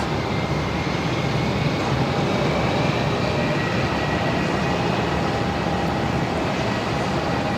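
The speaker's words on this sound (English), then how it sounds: "next arrival, a 321 Neo of Jetstar coming in" Jetstar Airbus A321neo arriving at Melbourne Airport, a steady broad jet roar that holds loud and even throughout with a faint high engine whine, no voices.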